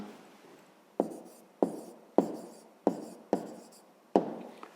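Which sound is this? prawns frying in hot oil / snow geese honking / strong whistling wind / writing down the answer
writing down the answer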